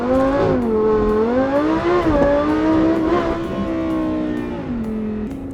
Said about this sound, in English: launch the car, and see how quick it really is